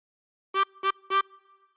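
Three brief blown notes on a 16-hole tremolo harmonica, all at one pitch and evenly spaced, a bright buzzy reed tone heard up close with no voices.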